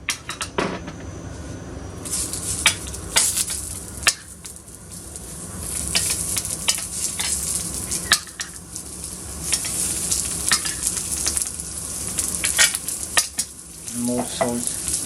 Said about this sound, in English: On the hot grill, seasoning on the sausage, generous on the salt